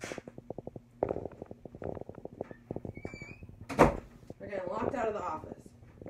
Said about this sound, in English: let me close the door for the dogs.